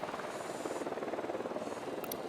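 A drone in Ghost Recon Wildlands hovers with a steady, fluttering rotor buzz, moderately loud and continuous, with a brief faint electronic chirp near the end.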